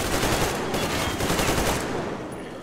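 Sustained automatic gunfire from the video game Metro Exodus, loud and dense with no pause for a couple of seconds, then trailing off slightly.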